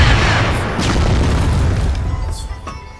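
A heavy grenade explosion in a ranked video game match booms loud and close, then its rumble slowly decays over a few seconds with faint scattered pops.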